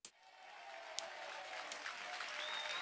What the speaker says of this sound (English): It's just people cheering and being happy.